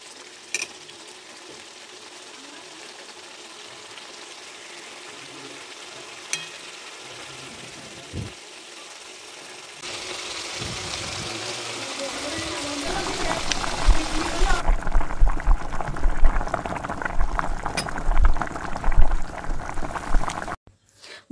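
A pan of dhaba-style mutton curry simmers and bubbles on low heat. Quiet stirring grows louder and busier halfway through, and the sizzle rises before it cuts off.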